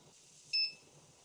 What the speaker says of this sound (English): I think it just keeps beeping until you do it